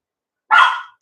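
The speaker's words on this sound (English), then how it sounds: "got this high pitched bark that I don't ever remember her having" A small dog gives a single high-pitched bark, loud and close, followed by the start of a second yelp right at the end.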